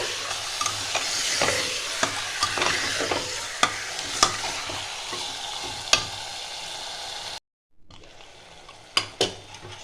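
Mutton fries on high flame in a pan, a steady loud sizzle broken by scrapes and clinks of a stirring spoon, a brief silent gap near the end before the sizzle and clinks return.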